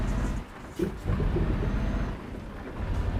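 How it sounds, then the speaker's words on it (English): Rain falls with low, rumbling thunder in the Euro Truck Simulator video game, a soft steady wash of sound with deeper swells, fairly quiet throughout. "It's raining here in game."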